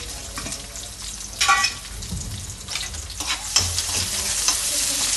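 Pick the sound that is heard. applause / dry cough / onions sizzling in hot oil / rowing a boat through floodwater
onions sizzling in hot oil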